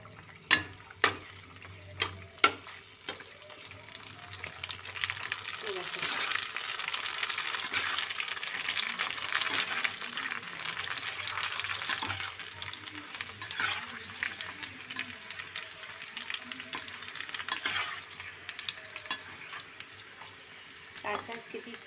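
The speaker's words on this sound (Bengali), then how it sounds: "ফুচকাটা ভেজে নিয়ে আসবো" Homemade fuchka puris fry in hot oil in a kadai with a steady, bubbling sizzle and occasional stirring clinks. A voice talks over the cooking throughout.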